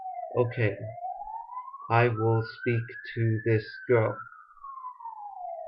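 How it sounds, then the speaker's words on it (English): A siren wails outside, rising and falling steadily and fairly loud throughout while a person speaks over it. "excuse the sirens"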